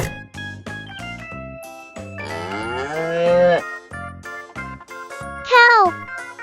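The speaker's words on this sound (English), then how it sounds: "Cow." A cow gives a long, drawn-out moo over bouncy children's music with jingling bells, followed later by a shorter, higher call.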